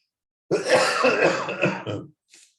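A person coughs in a short, harsh burst of several rapid coughs close to the microphone, followed by a faint softer rasp after a brief pause.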